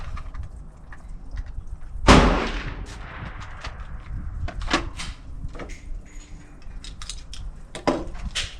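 A Ruger Security .380 pistol fires a single sharp, loud shot at an outdoor range, followed by a decaying boom and scattered clicks and handling noises.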